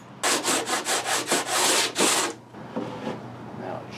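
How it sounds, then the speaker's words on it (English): Splintery, moisture-affected wood is sanded by hand in about eight brisk, rhythmic rasping strokes, loud and close, followed by softer scraping. "So we have to sand that down."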